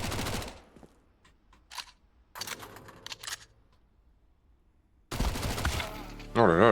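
Bursts of gunfire in the video game Counter-Strike, with a loud broadband volley at the start, scattered shorter shots in the middle and another dense burst near the end, mixed with game effects.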